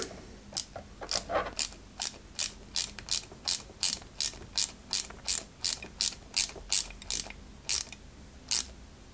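A small screw being driven into a 1/8-scale Citroën 2CV AZLP model, a steady series of crisp ratcheting clicks from a screwdriver at an even rhythm, close up, with no talking.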